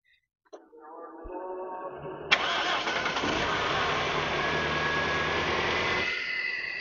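A car engine, just rebuilt after an overheating fault, cranks briefly and then catches, settling into a loud, steady idle close by that continues to the end with no talk.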